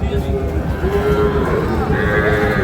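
Cattle lowing amid a busy, crowded livestock market in Dinajpur, Bangladesh, selling Sahiwal bull calves, with constant background chatter and bustle.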